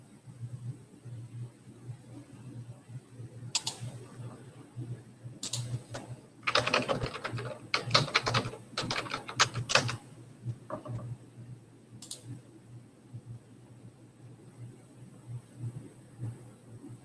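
Keyboards clack as an audience types during a career pathways session in West Virginia, scattered key taps building into busier bursts of clicking in the middle, then thinning out over a steady low hum.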